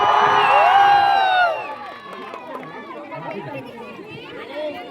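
A village crowd at a Teeja-Pora festival saree competition in Akola, Chhattisgarh, lets out a loud, brief burst of cheering and shouting, then fades into steady crowd chatter and voices.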